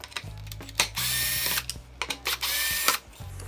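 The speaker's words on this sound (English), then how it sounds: "I'm going to use my drill." Power drill driving screws into a Onewheel footpad, several short whirring bursts with brief pauses and clicks between them, close and fairly loud with no talk.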